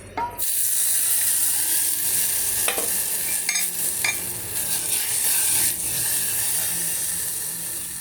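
Tamarind water is poured into a hot pan of spiced South Indian rasam, setting off a loud, continuous close-up sizzle with a bubbling hiss and occasional stirring scrapes throughout.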